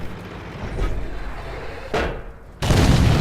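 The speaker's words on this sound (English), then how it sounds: "Unfortunately, shot went very low and hit only the ground." A tank cannon fires in World of Tanks from a WZ-131 Chinese light tank, a sharp, loud blast with a brief rumbling tail, followed by another heavy burst of sound that carries on to the end.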